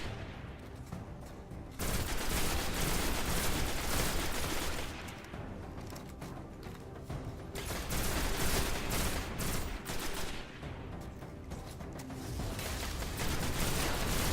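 Sustained automatic gunfire in Destiny, loud, dense bursts of continuous shooting with brief pauses between volleys, heard alone without talk.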